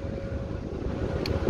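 Wind buffets the microphone of a cyclist riding from Kandalaksha toward Polyarnye Zori, a brief, steady low rumble of gusting air.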